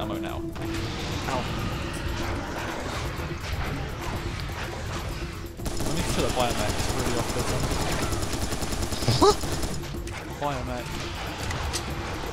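Rapid mechanical enemy gunfire and clattering impacts from Serious Sam 3, played co-op on Mental difficulty, rattle steadily for about twelve seconds beneath near-constant excited talk between players.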